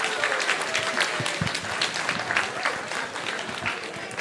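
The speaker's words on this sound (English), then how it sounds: "a huge round of applause to our wonderful field resetters" A crowd at a FIRST Tech Challenge robotics league meet gives a sustained round of applause, dense clapping with some cheering, heard close and loud throughout.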